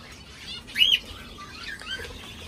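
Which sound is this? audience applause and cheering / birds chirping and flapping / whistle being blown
birds chirping and flapping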